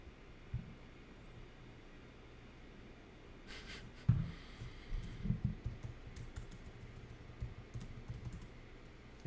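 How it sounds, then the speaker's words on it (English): Someone typing on a computer keyboard in irregular bursts of soft clicks and taps, faint and close, with occasional breathing and no speech. "Somebody's typing."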